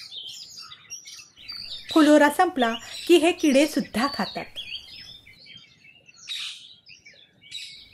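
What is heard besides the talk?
sunbirds chirping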